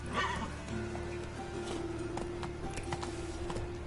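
Roach the horse gallops in The Witcher 3, with a quick whinny at the start and then soft hoofbeats over a steady game ambience, moderately close.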